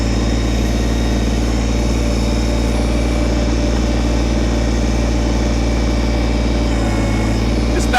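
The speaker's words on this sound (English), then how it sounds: "use the boom to put the backhoe in place, and then curl the bucket closed in order to actually dig" Kubota BT602 backhoe with its diesel engine running steadily at a constant drone throughout, close and loud with no clear change in load while the boom and bucket work to dig.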